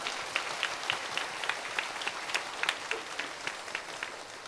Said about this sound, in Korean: 우리 도마 지파에 참석해 주신 모든 분들께 다시 한번 환영의 박수를 올리겠습니다